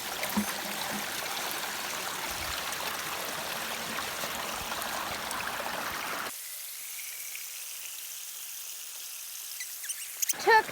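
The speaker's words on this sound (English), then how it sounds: "how many seconds it takes for this pipe to fill up that 2-gallon bucket" Water pours steadily from a pipe into a 2-gallon bucket, a loud broadband rushing splash for about six seconds, then cutting to a much quieter, thinner trickle with a brief knock near the end.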